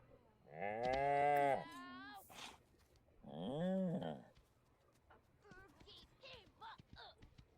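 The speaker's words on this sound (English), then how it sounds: "The cow is unhappy." A cow in The Sims 4 lets out two long, loud, drawn-out moos, followed by a few soft clicks and short chirping game sounds.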